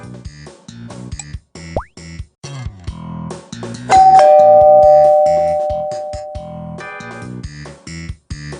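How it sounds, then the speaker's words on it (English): A cartoon doorbell in the Arthur's Puppet Theater game chimes once with a bright ding-dong that rings out and slowly fades, between busy plinks, boings and plopping cartoon effects. "The doorbell rang."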